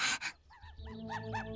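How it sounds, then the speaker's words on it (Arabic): A cartoon dog pants in a children's animated show, a few quick breathy puffs followed by short tonal whimpering sounds, brief and fairly quiet. "يوجد كلب متوحش هنا"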